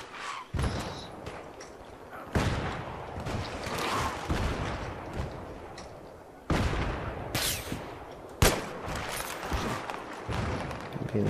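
Gunfire in Battlefield 3 cracks out in sharp, loud bursts with irregular gaps, several heavy reports punctuating a busy battlefield din of distant shots and thuds.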